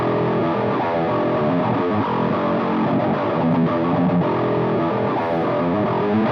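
Modern metal track by an Australian band plays loud and continuous, with dense distorted guitars and pounding drums filling the whole clip.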